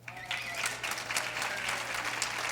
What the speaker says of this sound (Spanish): Un aplauso para Carleto.